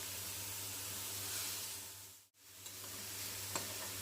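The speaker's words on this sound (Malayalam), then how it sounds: "ഇളക്കി ചിക്കനിൽ മസാല യോജിപ്പിച്ചെടുക്കണം" About 1.25 to 1.5 kg of chicken sizzles steadily as it is stirred into masala in a pan over a high flame for chicken perattu. A soft hiss carries throughout, with a brief dip and a few light clinks from stirring.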